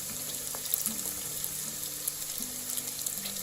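Potato donuts fry in hot oil, giving a soft, steady bubbling hiss with faint low tones underneath, fairly quiet and continuous throughout.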